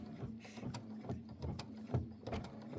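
A domestic embroidery machine stitches a heart accent on a small quilt block, making a quiet, rhythmic mechanical whirr with a repeating needle clatter close by and no voices.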